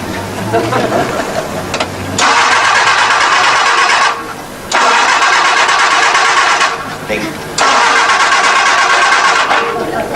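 Someone tries to start a used car for sale, producing repeated loud bursts of engine cranking, three long cranking bursts separated by brief gaps, close and harsh.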